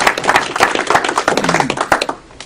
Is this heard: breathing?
no